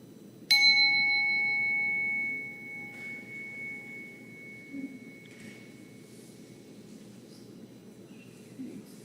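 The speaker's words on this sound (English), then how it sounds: "we're going to use the sound of the bell to transition out of the meditation" A single meditation bell is struck once to close a mindfulness session, ringing out clearly with a sustained, slowly fading tone over a quiet room, then leaving faint background stillness.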